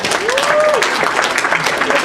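A short burst of applause at a fan convention panel (Midwest Bronyfest 2016), a crowd clapping steadily with a voice rising over it.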